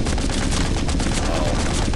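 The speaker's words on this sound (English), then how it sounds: "We're about to use the freaking mountain gun." Heavy mountain gun firing in the zombie shooter Into the Dead 2, a dense, loud barrage of rapid shots filling the whole stretch with no pause.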